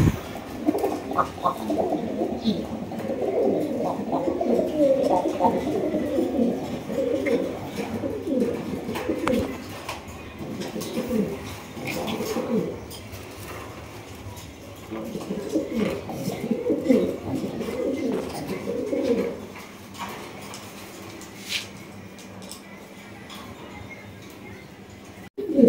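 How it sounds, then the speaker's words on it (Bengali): A pair of tiger-coloured King pigeons coo in repeated low, throaty bursts close by, with soft rustling and a voice speaking faintly in the background. "এখানে রয়েছে এক জোড়া কিং কবুতর, টাইগার কালারের কিং মাশাআল্লাহ"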